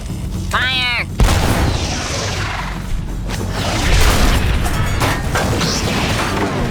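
In the Star Wars battle, a battle droid's rocket slams into an AT-TE walker with a loud boom and crash, followed by rumbling blasts and debris under overlapping battle noise, after a brief rising whistle.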